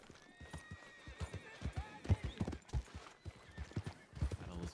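Horse hooves clip-clop in a quick rhythm under a whinny in the RedM roleplay game, with game music and a faint voice in the background.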